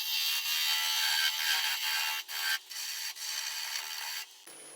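A spindle gouge cutting a spinning spalted maple natural-edge bowl blank on a lathe, a loud continuous rasping hiss with brief dips as the tool lifts off the wood, close up and alone.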